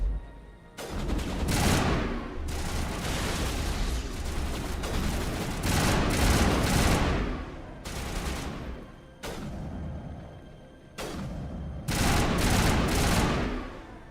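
Rocket fire and gunfire in Mass Effect 1 come in loud bursts of rapid shots, separated by short lulls, rattling and booming close up through the stretch.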